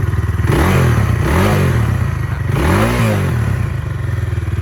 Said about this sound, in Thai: เสียงเป็นยังไงนะครับโอเคเดี๋ยวผมจะลองเบิ้ลให้ฟังนะครับผม